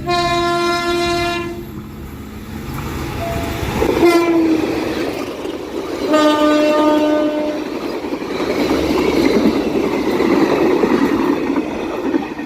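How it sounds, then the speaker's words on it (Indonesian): Train horns blare in long harmonic blasts, three in a row, as the Malabar train passes and crosses at Banjar station, followed by a heavy rolling rumble of wheels and cars close by. "tiba di stasiun Banjar menyilang kereta api Malabar"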